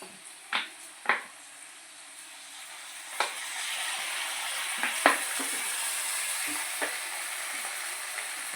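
Chicken frying in a pan as chilli sauce is poured in and stirred for chilli chicken, a steady sizzle with a few sharp clinks and scrapes of stirring rising over it, fairly close and moderately loud.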